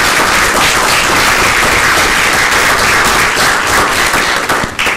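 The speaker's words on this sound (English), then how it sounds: "I want us to give a round of applause right now" Audience at a disability rights conference breaking into loud sustained applause, dense overlapping clapping filling the room from start to finish without talk.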